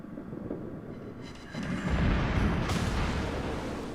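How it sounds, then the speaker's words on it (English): A German tier 7 premium battleship, the Scharnhorst, fires a main-gun salvo in World of Warships: a deep, rolling artillery boom that swells and lingers loudly for several seconds. "Comes another salvo."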